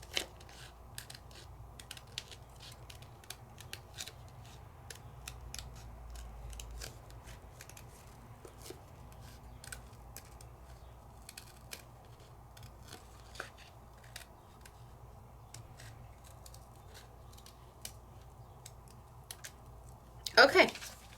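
Scissors snip out black peel-off sticker paper with quick, faint, scattered clicks against a quiet room background, and a soft voice is heard at times.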